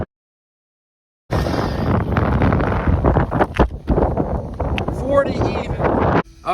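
Heavy wind buffets the microphone outdoors on a cold day, a loud rumbling roar that starts abruptly after a second of silence and surges and dips, with brief voice-like sounds mixed in.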